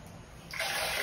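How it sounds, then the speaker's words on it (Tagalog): Water for boiling macaroni pasta pours into a cooking pot, a sudden close splashing gush that starts partway through and keeps running steadily after a quiet opening. "Ngayon, meron ako dito kinuha ng tubig."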